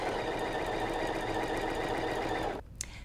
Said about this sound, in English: So we will turn it the other direction and sew over it.